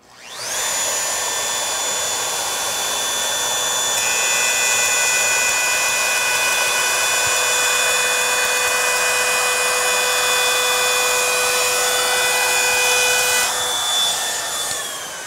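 A wood trimmer router with a straight bit whines at a high, steady pitch from start to finish while cutting a rabbet into a board, loud and close, then spins down at the end.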